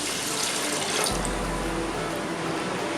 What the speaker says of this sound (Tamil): இதில் வந்து ஒரு 2 கப் அளவு தண்ணி விடலாம்